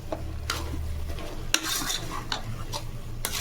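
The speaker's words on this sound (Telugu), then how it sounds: "ఇప్పుడు మామిడికాయ ముక్కలు పుల్లగా ఉన్న మామిడికాయ ముక్కలు ఒక కాయ పెద్ద సైజు తీసుకుని వేసుకుంటున్నాము" Large pieces of sour raw mango stirred into a curry pan, with scraping spoon strokes and light clatter over a soft sizzle.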